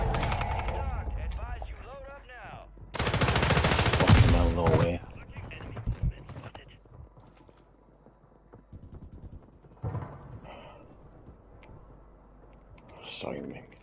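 Gunfire in a Call of Duty match rings out as a loud, dense burst of rapid shots followed by scattered sharper single cracks and clicks, with people talking through it.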